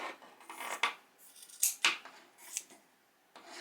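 Scissors slice through flannel shirt fabric in several quick, crisp snips with short rasping cuts between them, close and fairly loud, with no voices.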